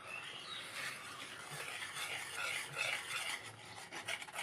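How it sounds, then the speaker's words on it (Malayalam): Unniyappam batter of rice flour, jaggery syrup and a pinch of salt being stirred by hand, a continuous close, wet rubbing and rasping with small irregular pulses and no talking. "മിക്സ് ചെയ്ത് കൊടുക്കാം."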